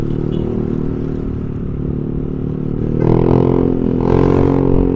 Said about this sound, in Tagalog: napakaingay ng tambutso ko